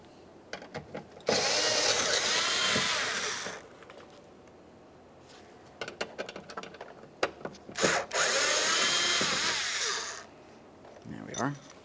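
A power drill whirs in two sustained bursts of about two seconds each, backing Phillips head screws out of a bracket inside a 2015-2019 Subaru Outback front door, with short clicks and handling noises between the bursts.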